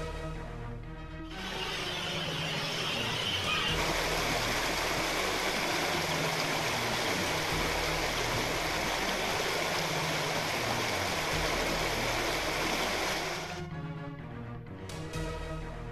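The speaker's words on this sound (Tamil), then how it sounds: "கல்படை, மாயம்பாடி ஆறுகளில் வெள்ளப்பெருக்கு ஏற்பட்டுள்ளது" Floodwaters of the Kalpadai and Mayambadi rivers rush in a steady, loud roar of turbulent flowing water that fills the scene without a break, fading slightly at the very start and end.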